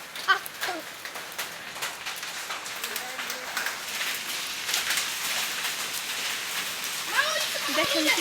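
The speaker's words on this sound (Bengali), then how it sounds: "দেখেন কি তাহলে শিল বৃষ্টি পড়তেছে" Hail and rain falling in Bangladesh, a dense steady patter with sharp ticks and splashes, close and continuous, with voices talking over it at the start and end.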